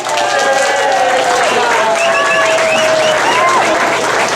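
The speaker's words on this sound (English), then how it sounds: "Would you please welcome with a great big round of applause" A pub crowd at a Saturday jam claps and cheers loudly and steadily, with a whistle or whoop rising over the sustained applause.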